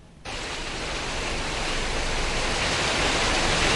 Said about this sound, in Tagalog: Rumaragasa ang tubig mula sa mga umapaw na ilog sa Dinalupihan at Hermosa sa Bataan.